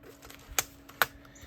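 A few separate key presses on a compact portable keyboard, two sharp clicks standing out clearly over a quiet background with no talking.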